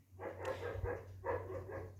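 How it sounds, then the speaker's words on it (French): A dog barking somewhere behind the scene at an outdoor bee-trapping spot, three or four muffled woofs spread over two seconds, moderately distant and fairly quiet. "Donc on entend peut-être mon chien derrière."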